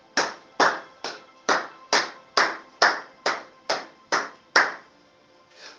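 A congregation at a church service claps in unison, about a dozen sharp, evenly spaced beats ringing in a reverberant hall, with one last faint clap after a short pause.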